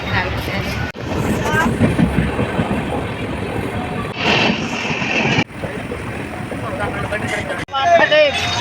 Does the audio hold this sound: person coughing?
no